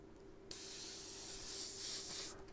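A paint sprayer loaded with red paint hisses in a steady, close, continuous spray for about two seconds over a low constant hum, with no talking.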